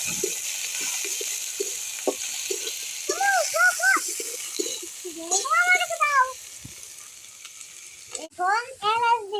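Onions and spices hit a pan for beef curry, a soft background sizzle running under frequent talking voices, including a child's.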